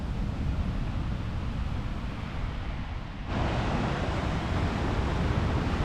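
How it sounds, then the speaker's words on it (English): Sea waves on a beach during a February wild camp, a steady broadband roar of surf and wind buffeting the microphone that swells slightly louder partway through, with no voices. "listen to the sounds of the waves"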